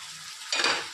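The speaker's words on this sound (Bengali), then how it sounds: "এরপর এটা একটু ঢেকে ঢেকে ভাজবো।" Vegetables for sukto fry in a covered pan, giving a soft steady sizzle that swells into a brief louder hiss and scrape of stirring, close and alone without talk.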